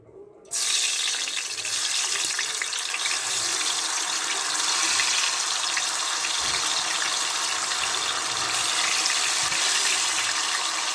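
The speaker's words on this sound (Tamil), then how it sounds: "இப்போ கிழங்கு பொரிச்சிக்கலாம்." Steady, loud hissing sizzle of potatoes deep-frying in hot oil, starting abruptly and continuing without a break, close by.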